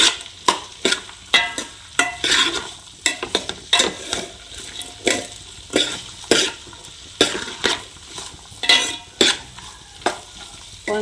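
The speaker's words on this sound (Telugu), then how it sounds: "కొంతసేపు అయితే నూనెలోనే ఫ్రై అవ్వనిస్తానండి." Tempering for a beans curry sizzles and fries in hot oil while a utensil stirs and scrapes the pan in a steady repeating rhythm, close and clear with no talking.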